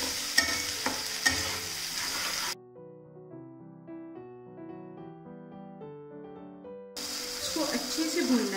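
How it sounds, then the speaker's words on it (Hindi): Onion, garlic and ginger paste frying and being stirred in a pan for taro root curry, a steady sizzle with scraping at the start and end, while soft background music fills the middle stretch. "अब इसको धीरे धीरे चलाते हुए भूनिए।"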